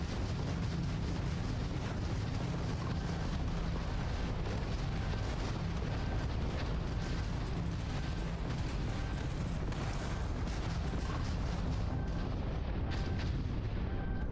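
Spaceship retro thrusters fire in Starfield with a continuous, thundering roar, heavy crackling rumble and steady blasts sustained at full force throughout, near and loud.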